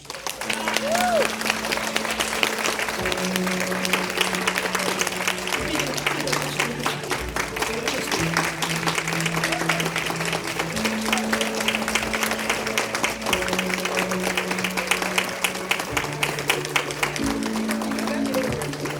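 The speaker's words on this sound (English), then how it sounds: "Make some noise, clap." Sustained audience applause at a leadership and communication seminar, steady and dense throughout, with music or a tonal voice line running underneath.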